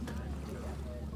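The schooner America 2.0 sails in New York Harbor, with a steady low rush of wind and water against the hull and faint voices in the background.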